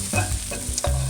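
Vegan sisig with black pepper is stirred in a hot pan: a couple of quick scraping strokes cut through a close, continuous sizzle in a brief burst, with no voices.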